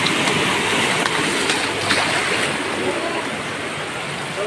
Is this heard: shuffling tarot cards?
no